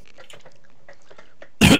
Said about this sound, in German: Der Husten muss weg